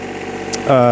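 Small John Deere 1025R compact tractor idling, a low steady diesel hum that grows louder and rougher in the final moments, with a person talking over it.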